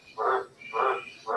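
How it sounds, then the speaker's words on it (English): Frogs croaking at night after good rain: a steady series of evenly spaced, mid-pitched croaks, about three in quick rhythm, moderately near with a faint background hum. "the frogs are going well tonight"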